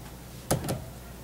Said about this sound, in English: This door opens up.